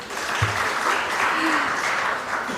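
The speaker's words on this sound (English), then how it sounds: "A big applause." Audience applause at an investiture ceremony, a dense sustained wash of many hands clapping at an even level throughout, with a faint voice briefly beneath.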